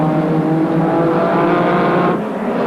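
A pack of sports sedans races at Amaroo circuit in 1984, engines roaring loud and close as they power down the back straight, a sustained harmonic drone that dips near the end.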